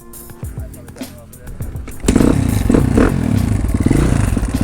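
A two-stroke 125cc motorcycle is kicked over with a few clattering strokes, then catches and runs loudly at a steady, buzzing idle.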